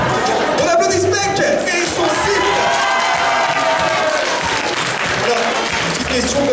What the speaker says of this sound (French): On applaudit Spec et son site